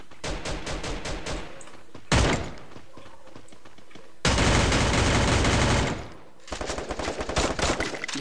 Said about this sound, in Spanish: Me está disparando ese güey.